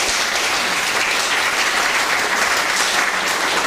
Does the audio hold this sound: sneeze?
no